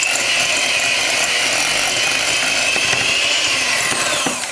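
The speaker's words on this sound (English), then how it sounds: "I'm going to use some butter, 4 ounces of Philadelphia cream cheese. I'm going to beat that for just a second." Butter and Philadelphia cream cheese being beaten for frosting: a loud, continuous mechanical whir holding steady throughout, heard alone without voices.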